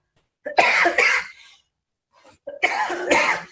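Two separate bursts of harsh coughing close to the mic, each a quick double cough, with a short silence between them.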